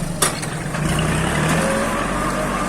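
A farm tractor digs out a fish pond in soft soil, its engine running steadily and close by, with a faint higher whine riding over the low rumble.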